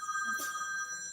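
A telephone ringing indoors during a conversation: a single bright, steady electronic ringtone with clear sustained tones, faint and somewhat distant, with no speech over it.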